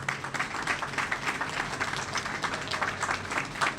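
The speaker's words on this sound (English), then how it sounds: "So please give them a round of applause as well." Audience applause at an event marking a life science and transit development in North Bethesda, a moderate, steady patter of many hands clapping throughout, fairly even in loudness with no distinct voices.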